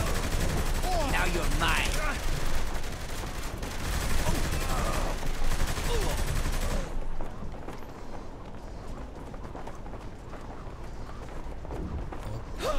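Gunfire in Saints Row: The Third, a heist mission, dense automatic bursts and shots packed over game noise and music for most of the span, thinning out later, with someone talking over the action.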